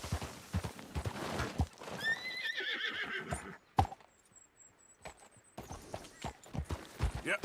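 Horse hooves clip-clop and a horse neighs in Red Dead Redemption 2, with rhythmic hoofbeats, a clear whinny, a short quiet gap, then more footfalls at close range.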